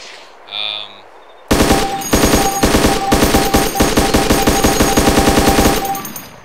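Rapid automatic gunfire from a weapon in the video game DayZ, a loud sustained burst of evenly spaced shots lasting about five seconds, preceded by a short mechanical tone.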